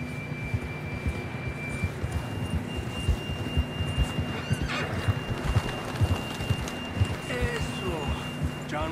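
Horse in the video game Red Dead Redemption 2: a couple of whinnying neighs rise over steady hoofbeats and a low ambient hum, with a voice speaking briefly.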